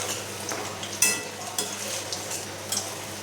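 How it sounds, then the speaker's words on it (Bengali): Garlic frying in oil in a home kitchen pan, a soft continuous sizzle with a few sharp utensil taps and scrapes, fairly quiet and with no speech. "রসুনটা ভালো ভালো হালকা লাল করে ভেজে নিতে হবে,"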